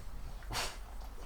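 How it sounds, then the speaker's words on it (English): A dog indoors gives a single short, faint bark or yip, a brief burst against a quiet background. "that's my dog there making all that noise"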